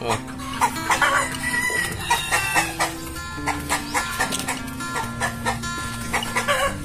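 A chicken clucks repeatedly nearby in short, uneven bursts, with other farmyard noises faintly around it.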